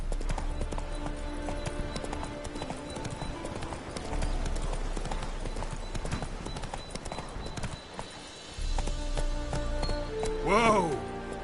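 Steady clip-clop of horse hooves in The Witcher 3: Hearts of Stone under a busy ambient bed, ending with a short horse whinny near the end.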